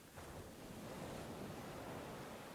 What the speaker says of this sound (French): Les embruns fouettent nos narines comme les vagues fouettent nos pieds.